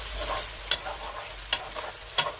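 Chicken stirred and fried with a black pepper spice mix for a restaurant-style karahi gives a steady close sizzle. Three sharp scraping stirs cut through it at roughly even intervals, with no talk.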